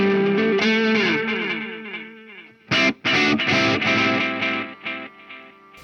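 A distorted electric guitar runs through a delay pedal placed in front of the amp, its echoing repeats piling over the fresh notes and breaking up slightly, with a sharp pause of strummed chords near the middle before the smeared wash resumes.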